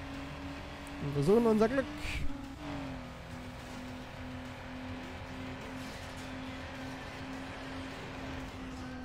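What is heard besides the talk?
race car accelerating at full throttle, Need for Speed Underground video game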